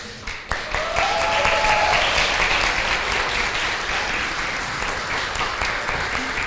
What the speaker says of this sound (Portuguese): Vocês merecem todos os aplausos do mundo.